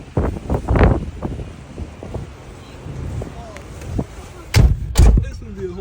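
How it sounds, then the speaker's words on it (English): Strong storm wind buffets a truck, roaring across the microphone in heavy gusts with loud thumps and slams of the cab rocking, while people talk over it. "This gonna be a whole tornado right here."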